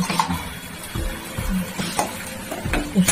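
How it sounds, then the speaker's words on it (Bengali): Hot water added to sizzling sesame paste with turmeric in a pan, giving bursts of hissing and bubbling with stirring scrapes and a few light utensil clicks, close and moderately loud. "এবারে জল দিয়ে গরম জল দিয়ে দিচ্ছি।"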